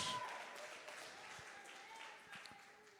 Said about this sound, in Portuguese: Bate as palmas bem forte para Jesus.